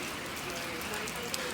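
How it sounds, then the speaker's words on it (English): Rain dripping and spattering into an open-sided shelter under a broken gutter, a steady soft patter with scattered drops, fairly quiet and continuous. "the rain kind of dips in here a little bit because I need to fix the gutter"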